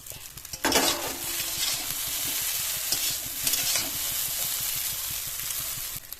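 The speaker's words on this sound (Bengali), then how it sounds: "চাউমিনটা মিনিট 2 ভেজে নেব" Egg chowmein stir-fried in a hot pan, a steady loud sizzle of frying noodles with repeated scraping and clinking of a spatula against the metal, continuing throughout without talk.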